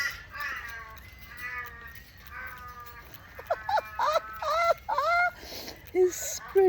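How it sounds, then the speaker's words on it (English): Pet baby birds call in a series of short, rising chirping squawks, close and fairly loud, coming in quick bursts after a stretch of softer ambient chatter. "They're sweet little baby birds."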